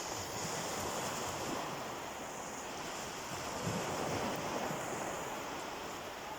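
Surf from an incoming tide washes onto a beach at Pensarn in North Wales, a steady, loud roar of breaking waves with wind buffeting the microphone and no voices.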